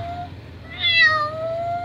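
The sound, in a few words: woman imitating a cat meowing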